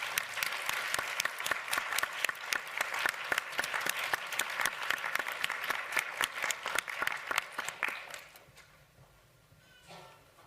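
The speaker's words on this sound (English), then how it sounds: "Let's give them a big round of applause." A conference audience applauds a panel: crisp, rhythmic clapping rings out steadily for about eight seconds, then fades quickly into near-quiet room noise with a faint shuffle.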